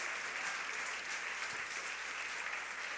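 Church congregation applauding, a continuous even wash of many hands clapping, moderately quiet and sustained for the whole stretch.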